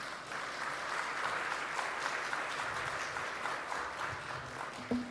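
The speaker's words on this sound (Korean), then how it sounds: "목사님 나오실 때 큰 박수로 환영해 주시기 바랍니다" A church congregation gives a pastor a big round of welcoming applause, a dense, continuous clapping that holds steady before tapering near the end.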